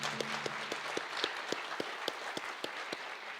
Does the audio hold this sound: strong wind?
no